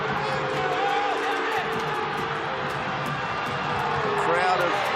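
Stadium crowd of nearly 13,000 at a Panthers NRL rugby league game, a steady broad roar and murmur running the whole time beneath continuous commentary.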